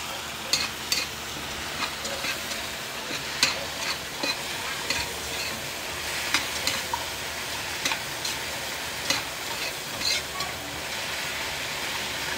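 Okra tossed into a pan of cooked tomatoes fries with a steady, close sizzle, while a spoon scrapes and stirs in repeated clicks and knocks across the pan.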